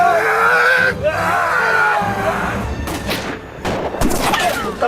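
Gunfire in a Hindi gangster film scene set in Maharajganj, loud chaotic bursts and crashes mixed with shouting voices and yells, dense and close throughout.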